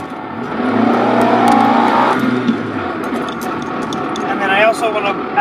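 A car drives along with its engine pulling and revving up as it accelerates, a steady loud close rumble from inside the cabin, while someone talks over it.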